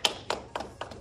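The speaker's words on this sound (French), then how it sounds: "On peut s'applaudir, bravo." Four sharp hand claps, evenly spaced and fairly faint, from people finishing a kickboxing drill at a wall.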